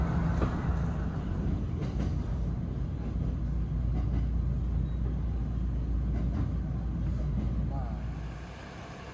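A Kishuji Rapid train in Japan, heading toward Wakayama, rumbles steadily along the rails with a low, continuous roar that fades slightly near the end; faint voices are mixed in.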